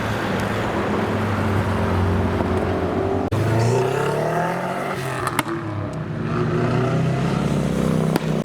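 A Mark IV Toyota Supra at a JDM car show drives past, its engine note swelling loud and close, then easing as it moves on, with steady roadway noise underneath.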